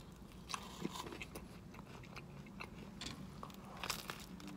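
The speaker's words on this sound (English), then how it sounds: "let me take a bite" Someone bites into and chews a Dunkin' menu item, close and quiet, with scattered crunchy bites and soft mouth crackles. There is no talking.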